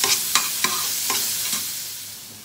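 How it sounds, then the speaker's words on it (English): Finely chopped onions sweating in a pan, with a soft continuous sizzle broken by four or five quick spoon scrapes in the first two seconds, then settling to a gentle fry. "I will just sweat the onions"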